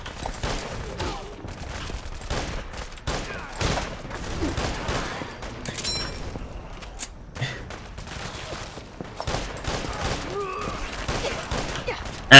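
Dense, continuous gunfire from Children of Atom cultists in the video game Fallout 4, with overlapping shots and bursts in a busy combat mix that swells and dips over about twelve seconds.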